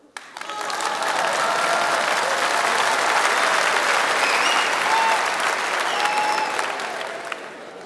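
Audience in a comedy show hall bursts into sustained, dense applause that swells quickly and holds steady for several seconds before easing slightly, with scattered faint voices in the crowd.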